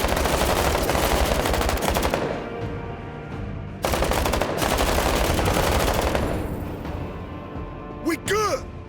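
Dense, sustained automatic gunfire from the Menace tactical video game rattles loudly for about two seconds, pauses briefly, then erupts again in another long burst, followed by quieter game effects and a rising whistling tone near the end.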